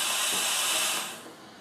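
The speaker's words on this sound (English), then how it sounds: "We're gonna turn it back on for a second just to let the head purge." A Breville Barista espresso machine purges its group head with a loud, steady rush of hissing steam and water that holds for about a second, then tapers to a softer hiss.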